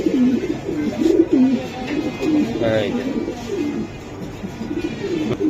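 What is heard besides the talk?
racing pigeons cooing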